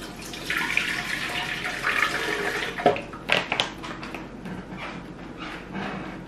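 Water poured into a container while making coconut cashew plant milk, a steady broadband splash lasting several seconds with a few sharper sloshes midway, close and fairly loud.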